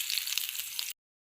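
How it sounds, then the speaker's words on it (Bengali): Small pieces of cauliflower frying in mustard oil in a wok give a bright, crackling sizzle that runs for under a second before cutting off to silence. "একদম ছোট্ট ছোট্ট করে কেটে রাখা ফুলকপি তেলের মধ্যে দিয়ে দিলাম।"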